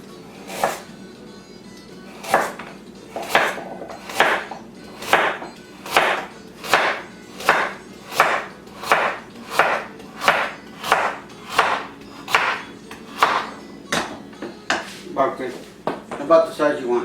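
A kitchen knife chops carrots into wheels on a cutting board, about fifteen crisp, evenly spaced knocks in a steady rhythm, close and clear with a quiet background.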